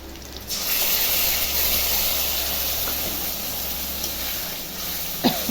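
Spice paste (masala) hits a hot pan of fried potatoes and onions and sets off a loud, steady hiss and sizzle, heard up close for several seconds, with a few light clinks near the end.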